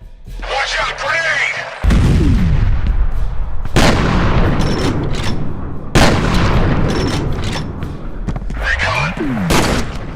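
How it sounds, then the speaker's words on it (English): Grenade blasts and gunfire in the shooter game FEAR, with loud booming explosions that cut in sharply and loud rattling shots following close behind, dense and chaotic over about ten seconds. "Watch out, grenade!"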